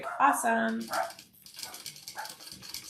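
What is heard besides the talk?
dogs barking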